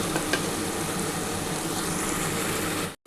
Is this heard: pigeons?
no